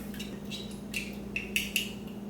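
Whisk or fork clinking against a bowl while French toast batter with cinnamon is mixed at a campsite, a handful of faint quick metallic taps over a quiet low hum.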